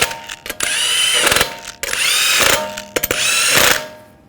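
Power tool bursts snugging down wheel lug nuts on a Toyota Corolla, four loud whirring runs of about a second each separated by short gaps and clicks, close and clear with no talk.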